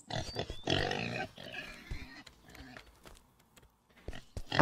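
Pigs grunt and oink in a farm barn setting within a horror video game, several snorting calls in the first half, quieter scuffs later and a louder burst at the end.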